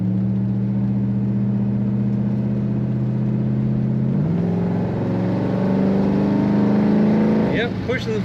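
A 1965 Pontiac Catalina two-door hardtop engine holds a loud, steady low drone under throttle, then the transmission kicks down and the revs climb in a rising surge, heard up close from inside the car.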